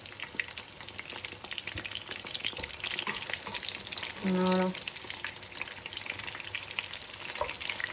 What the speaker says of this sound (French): Et en fait, ils vont se décoller tout seuls avec la friture.